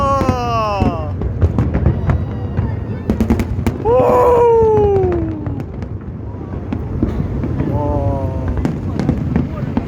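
Chinese National Day fireworks bang and crackle repeatedly nearby as excited voices shout and cheer over the bursts, with a loud whistling rocket rising in the middle.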